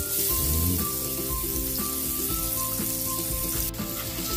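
Garlic frying in melted butter in a pan for chicken afritada, giving a steady, close sizzle with faint scraping of stirring underneath and a constant low hum.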